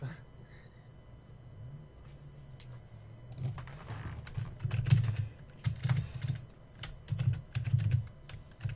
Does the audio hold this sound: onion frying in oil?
no